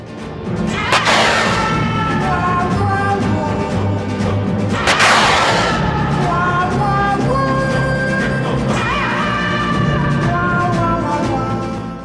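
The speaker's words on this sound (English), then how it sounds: "let's just take a look at what this tow missile looks like firing at a live fire range" A TOW missile fired at a live fire range during a game of Armored Warfare, with loud whooshing launch blasts roughly every four seconds over a steady engine rumble.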